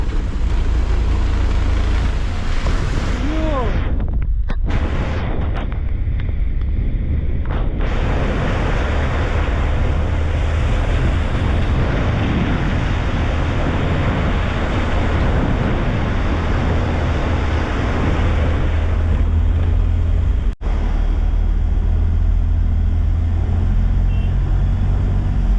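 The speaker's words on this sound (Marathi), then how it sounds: "धबधबा" Waterfall beside the old Mumbai-Pune highway, a loud, steady broadband roar of rushing water filling the whole scene, with a brief dip where passing traffic or wind shifts the sound.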